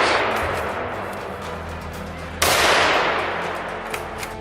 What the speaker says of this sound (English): the forest was alive with the sharp reports of rifles